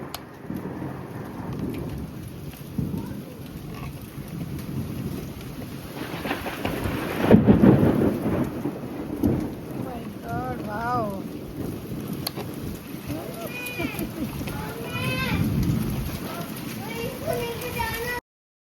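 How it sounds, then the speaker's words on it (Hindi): Heavy rain pouring during a thunderstorm in Kolkata, a constant loud hiss of rainfall with a rumbling thunder burst midway and wind, while people talk faintly underneath. "क्योंकि बहुत ज़्यादा बारिश थी और इतनी तेज़ आंधी तूफ़ान जैसा मौसम हो गया था"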